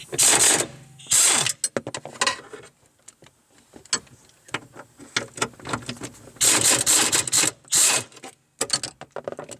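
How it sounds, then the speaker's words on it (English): A ratchet wrench clicks in quick, bursty runs while undoing the nuts that hold a Jeep Wrangler Rubicon clutch master cylinder to the firewall, close up and loud, separated by short pauses with scattered small metallic taps. "are now ready to undo the two nuts that hold the master cylinder to the firewall."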